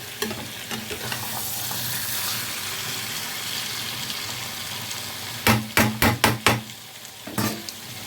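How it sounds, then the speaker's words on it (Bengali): Boiled pumpkin and spices being gently stirred in a pan, a steady soft scraping and sizzle throughout, with a cluster of sharp spoon knocks against the pan near the end. "এখন আমি এই উপকরণগুলোকে সব একে অপরের সাথে মিশিয়ে দেবো আর খুব হালকা হাতে করতে হবে"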